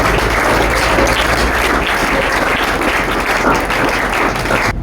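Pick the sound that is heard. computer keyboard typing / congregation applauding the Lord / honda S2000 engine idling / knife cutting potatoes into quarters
congregation applauding the Lord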